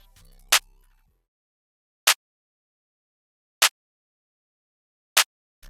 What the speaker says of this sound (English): I started out with this basic clap pattern that everybody uses.